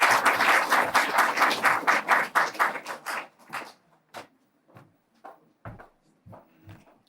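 Audience applause in a university education faculty hall, dense steady clapping for about three seconds, then thinning out into a few scattered, isolated claps that fade away.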